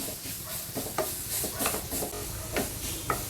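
Spoon stirring chopped dates and dry fruits into caramelized sugar in a pan for a carrot dates cake, soft scraping strokes repeating every half second or so with a faint sizzle underneath, close and fairly quiet.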